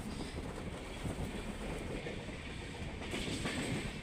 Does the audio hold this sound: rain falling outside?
no